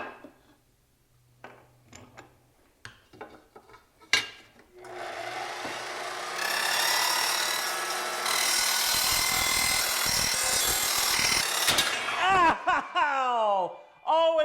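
A saw cuts through lengths of clamped scrap wood, giving a loud, steady rasping drone that builds and holds for several seconds before trailing off, with scattered handling knocks beforehand and a voice near the end.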